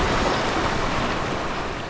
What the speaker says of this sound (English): And splash.